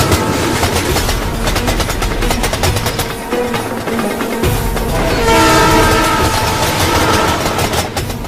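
Passing train with loud rolling wagon clatter and a sustained horn blast, continuous and close, with no talk over it.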